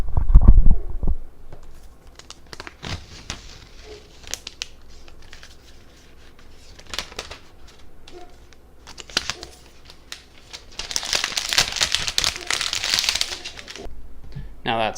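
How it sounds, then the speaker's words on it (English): Protective paper peels off a new 11-inch 2018 iPad Pro in bursts of crinkly tearing and rustling, held close, with a long crisp rip near the end. "Let me get it close so you can hear the paper coming off."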